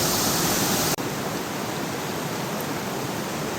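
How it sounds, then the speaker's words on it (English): Creek water rushing steadily at a creek crossing on the West Canungra circuit, a loud continuous broadband wash heard close, with a brief cut near the start. "this is the final major creek crossing on the West Canungra circuit"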